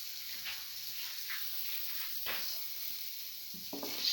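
An egg frying in a pan for a cinnamon scrambled egg dish, a soft steady sizzle held at a fairly low level throughout, with a few faint clicks near the end.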